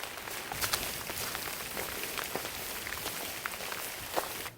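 Rain patters through a forest while backpacking in winter in Uwharrie National Forest, a dense, even hiss of drops with scattered sharper taps and occasional louder splats, steady and close throughout, no voices.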